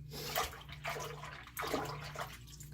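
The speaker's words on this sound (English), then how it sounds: "I'm just putting them in the soapy water. Rinsing them off." Artificial succulents being rinsed in a basin of soapy water, with repeated sloshing and splashing strokes in a close, gentle rhythm and no talking.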